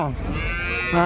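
A single cow moos loudly and close by at the Punganur cattle market, a drawn-out low bellow lasting about a second.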